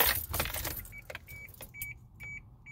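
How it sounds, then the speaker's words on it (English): A car key slides into the ignition and turns, with close keys jangling in short metallic bursts and bright chimes, quiet and alone. "You turn the key on,"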